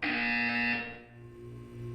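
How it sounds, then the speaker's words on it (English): A buzzer sounds in the video game Portal 2: a harsh, steady electronic tone lasts about a second, then fades into a quieter lingering hum. "When you hear the buzzer, look up at the ceiling."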